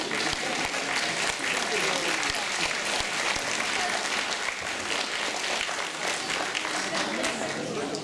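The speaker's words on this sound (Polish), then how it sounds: "Wielkie brawa." Sustained applause from an audience at an awards ceremony for youth competitions in the city, as winners are called up; dense, even clapping fills the whole stretch at moderate loudness, with no speech over it.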